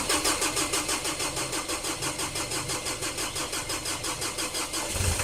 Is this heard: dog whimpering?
no